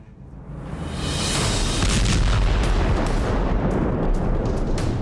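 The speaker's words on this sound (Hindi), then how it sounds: "जमीन को थर्रा देने वाला धमाका, आसमान कपा देने वाला धमाका" A powerful car bomb blast erupts into a sustained, roaring boom with crackling debris, loud and close, with no voices present.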